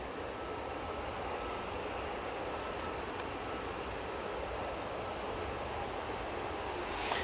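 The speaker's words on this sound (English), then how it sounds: "On short final now, we do have the Ethiopian A350-900 coming in from Geneva." An Ethiopian Airlines Airbus A350-900 on short final into Manchester Airport gives a steady broadband jet rumble, distant and even throughout, with a slight swell at the end.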